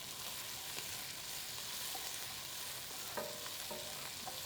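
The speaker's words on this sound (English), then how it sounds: "you're going to brown the natural sugars in these onions" Onions browning in a pan during a cooking demo, a steady, fairly quiet frying sizzle with a soft hiss throughout and a few faint clicks of stirring utensils, no voices.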